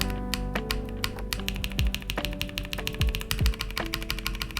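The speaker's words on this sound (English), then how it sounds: "You'll be able to hear the metal contacting here." The metal frame of a Keychron Q1 mechanical keyboard knocks against its keycaps, mostly the F8 key, while it is typed on, giving a fast run of crisp, close clicks and clacks with a faint metallic ping running through them.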